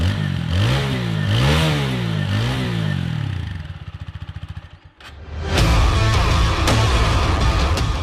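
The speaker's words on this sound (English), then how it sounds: "that reflects even in its exhaust note, which even with the same muffler as the RTR 200 feels a bit flat" TVS Apache RTR 160 4V motorcycle revving hard, its exhaust note rising and falling in repeated throttle blips, then settling into a throbbing idle before a sharp clatter and a louder, rougher burst of engine noise close by.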